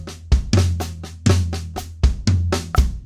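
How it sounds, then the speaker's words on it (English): A drum set plays a flam accent phrase, with crisp doubled strokes in a steady, bouncing rhythm, some hits deeper like toms or kick. The playing is close, clear and alone, with no talking. "So in the case of this particular Flam accent phrase we're looking at,"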